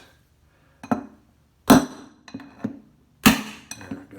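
A seized front-load washer drum bearing is hammered out with sharp, loud metallic blows, about six irregularly spaced strikes, some ringing and some duller as wood is hit, with a brief spoken word between them.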